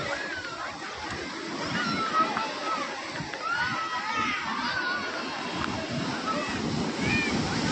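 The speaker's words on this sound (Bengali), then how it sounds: "তো গাইস এটা সেই ঢেউ সাগরের ভাইরাল বিচ। এখানে প্রচুর মানুষ স্নান করছে।" Sea waves washing onto crowded Digha beach make a steady, loud wash of surf, with a crowd of bathers chattering and shouting throughout.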